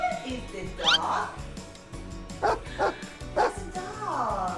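A dog gives several short barks and yips in a children's farm-animal lesson, with a voice speaking over and between the calls, ending on a whimpering tone.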